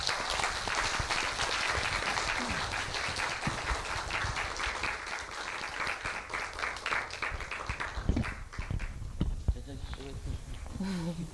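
An audience at a poetry-song concert applauds to welcome poet Na Tae-joo, steady dense clapping filling the room for most of the stretch before thinning into scattered claps as a voice speaks near the end.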